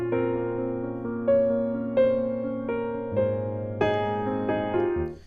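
Slow, dreamy piano chords from the second part of the verse of a song, each struck chord ringing out and sustaining into the next, close and clear with no talking.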